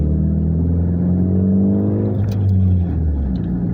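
Engine of a fourth-generation manual Nissan Altima with a stage 2 XTD clutch revving as it is rev-matched on a downshift, a close, loud, steady engine drone that swells and settles over a few seconds.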